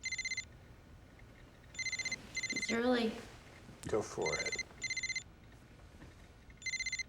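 A cordless home telephone rings in repeated electronic bursts of trilling tones, loud and close, with people talking briefly between the rings.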